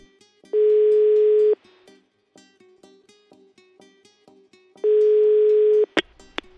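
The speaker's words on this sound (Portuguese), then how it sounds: "Vamos ligar pro Thiago?" A telephone ringback tone sounds during an outgoing call, two long steady tones about a second each separated by a pause, with faint clicks and a few sharp blips at the end.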